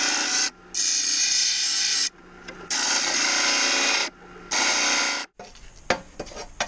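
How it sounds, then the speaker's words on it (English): Disc sander grinding a fabricated metal control arm in repeated bursts of about one to two seconds, bright and harsh, separated by short pauses, ending with light scraping and handling clicks. "Then I'll take this over to the disc sander"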